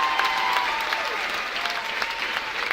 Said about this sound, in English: Let's give them all one big round of applause